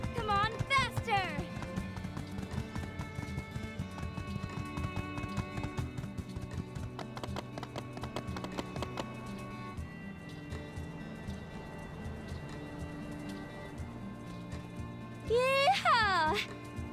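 Horse galloping in the video game My Time at Sandrock, with steady hoofbeats running under background music and whinny-like calls near the start and end.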